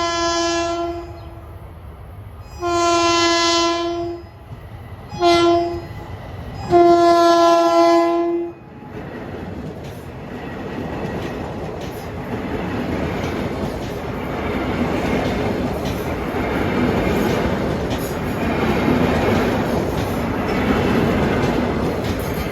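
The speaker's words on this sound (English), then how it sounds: "just having left Ronkonkoma Station is train 1971, 7:23 p.m. Ronkonkoma to Penn Station" An LIRR electric commuter train, number 1971, departing Ronkonkoma Station bound for Penn Station, sounds several loud horn blasts in a long-short pattern, then a steady rolling rumble and wheel noise builds as the cars pass close by.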